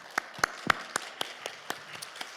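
Sparse clapping in a church service, about nine distinct claps at a slightly irregular pace, fairly quiet and a little distant, with no talking.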